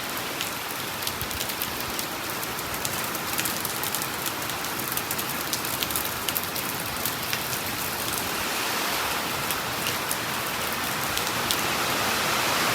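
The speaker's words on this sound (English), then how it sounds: "all it's doing, it's just rain, rain, and more rain" Heavy rain pours down steadily outdoors, a dense, continuous hiss of drops hammering a surface, loud and unbroken from start to finish with no voices.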